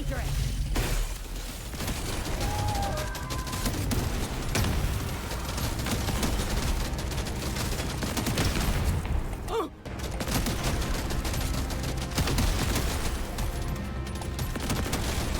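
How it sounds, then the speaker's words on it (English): Gunfire from the M1000 rifle in Deep Rock Galactic Survivor, with dense, repeated shots and impacts against a horde of enemies over busy game effects, loud and nearly nonstop, with occasional speech. "I have the M1000 trying to shoot at it."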